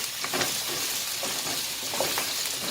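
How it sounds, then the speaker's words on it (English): Chunks of pumpkin and carrot sauté in hot oil while preparing Jamaican-style steamed fish, a soft continuous sizzle with light stirring scrapes, fairly quiet and alone. "So the pumpkin and the carrot is sauteing,"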